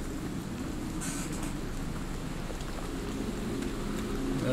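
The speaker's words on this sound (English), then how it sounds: "It's raining." Steady, hissing rain in a video game fills the whole stretch, an even wash of noise with no voices.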